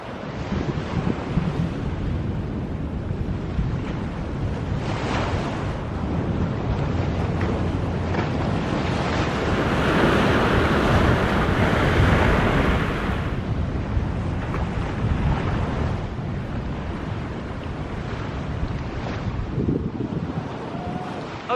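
Ocean waves at Bean Hollow State Beach roar in a loud, continuous wash of surf, swelling to a heavier crash midway, with gusty wind buffeting the microphone throughout.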